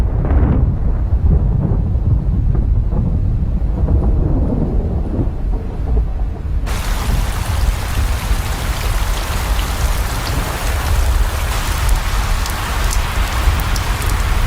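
Thunderstorm as the first rains arrive in rattlesnake country: steady, loud rain patters throughout, with low rumbling thunder underneath, the downpour growing denser and brighter about halfway through.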